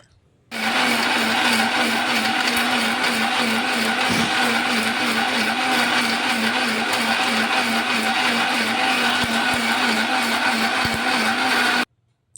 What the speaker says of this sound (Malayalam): മിക്സി ജാർക്ക് ഈ പുളിയിട്ട് മഞ്ഞൾപ്പൊടി, വെള്ളം എല്ലാം ഇട്ടിട്ട്